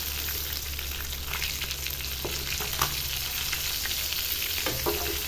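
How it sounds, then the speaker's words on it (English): Pomfret fish fry in oil with a constant, dense sizzle and crackle from start to finish, with a low steady hum underneath and occasional faint clicks, no voices. "Finally, our fishes are fried well."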